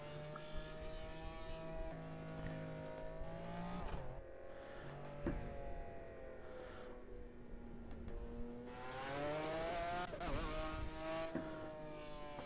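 A McLaren GTR race car screams around the Nürburgring in the video game Project Cars, its engine rising and falling through gear changes with sustained high-pitched revving, loud and continuous with no talk.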